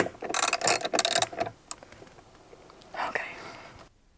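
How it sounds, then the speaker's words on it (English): A 16 mm socket wrench works loose the tight steering wheel bolt on a BMW G80/G82, giving rapid ratcheting clicks and mechanical grinding up close, with softer clicks afterward and faint voices in the background. "So now with a 16 mil, you are going to loosen that bolt."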